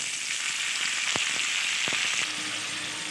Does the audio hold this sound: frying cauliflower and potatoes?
yes